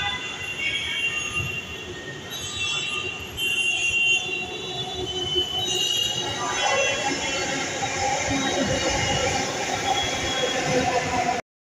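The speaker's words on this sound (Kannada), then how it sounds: "ಚಲ್ಲಘಟ್ಟದಿಂದ ವೈಟ್ ಫೀಲ್ಡ್ ಹೋಗುವಂತಹ ಮೆಟ್ರೋ ಇದು." A Bangalore metro train on the Challaghatta to Whitefield line pulls in, its steady rumble and high wheel squeal continuous and fairly loud throughout, with a surge of noise partway as it nears.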